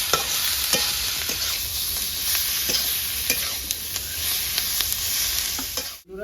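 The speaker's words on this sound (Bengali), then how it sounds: "দিয়ে ভালো করে ভাজা করে নিতে" Chicken pieces with salt and turmeric fry in a pan for daab chicken, a steady broadband sizzle broken by regular scraping stirs, close and moderately loud, with no talking.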